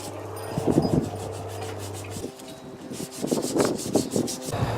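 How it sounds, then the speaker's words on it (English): Wooden bushcraft knife handle being sanded with 120 grit sandpaper, close rhythmic scratchy rubbing strokes in short bursts with brief pauses between them. "Now I'm going to switch grits to 120 and start shaping it a little more."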